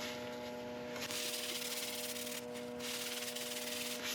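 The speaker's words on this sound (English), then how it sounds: "I'm just going to go straight on with the True Grit abrasive paste" Abrasive paste rubbed by hand onto spinning sequoia redwood on a wood lathe, a steady broadband friction hiss over the motor's constant hum, close and continuous with no talking.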